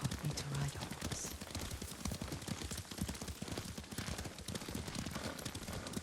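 Horse hooves clopping in a steady galloping rhythm while riding in the video game Ghost of Tsushima, moderately close and continuous under a dense layer of game sound effects and ambience.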